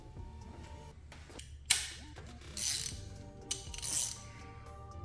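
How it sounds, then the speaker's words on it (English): A ratchet snugs a PCV valve into the plastic valve cover of a 2019-2025 Nissan Altima SL with the 2.5L PR25DD engine, giving a few close, quiet mechanical clicks and brief metallic ticks against a low steady hum. "So I'm going to come in with my ratchet"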